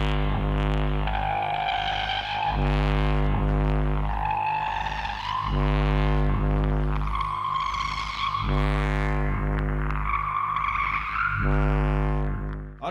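Alien spacecraft language in the video game GTA 5: a series of warbling, rising and falling tonal calls, repeated in phrases over a steady, loud low drone, with no talk.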